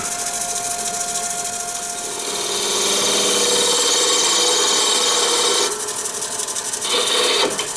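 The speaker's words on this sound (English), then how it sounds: "And now we can start hollowing it out." A wood lathe hollows out the inside of an egg cup, a steady loud rasping cut that swells midway and then drops back with a brief change near the end.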